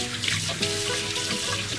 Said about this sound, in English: this is what happens when you wash your face over a sink